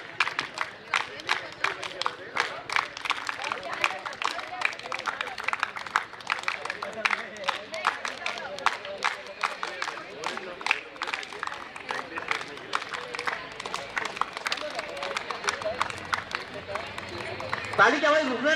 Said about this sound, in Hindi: ताली की आवाज रुकना नहीं चाहिए